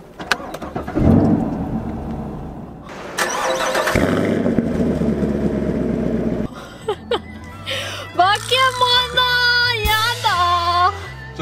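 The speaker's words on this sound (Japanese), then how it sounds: "じゃあエンジンスタートしますよ。" A Chevrolet Camaro engine cranks and catches, settling into a steady rumbling idle, followed by a few electronic chime tones.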